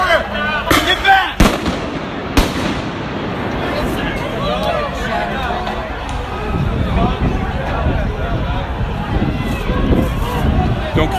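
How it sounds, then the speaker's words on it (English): Pepper spray bombs go off at a downtown Portland intersection during a street confrontation with police. Several sharp, loud bangs come in the first few seconds, followed by a steady wash of crowd noise and shouting voices. "those are pepper spray bombs"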